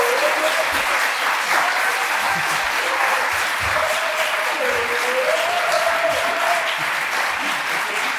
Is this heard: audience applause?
yes